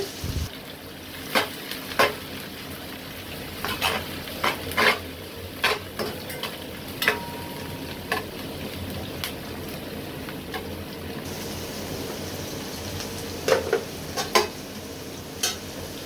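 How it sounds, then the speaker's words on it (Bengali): Chopped onions frying in oil and ghee until golden for a Bengali beef chap bhuna, with stirring scrapes, light clinks of a spoon against the pan and a soft background sizzle, without talk. "এখানে পেঁয়াজটা বেরেস্তা করে নিতে হবে।"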